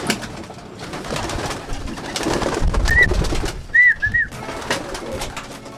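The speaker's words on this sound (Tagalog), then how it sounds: "magpapakawala na tayo ng ating mga ibon" Pigeons being released from a loft coo and flutter outdoors over a steady background of ambient noise, with a few short bird calls standing out near the end.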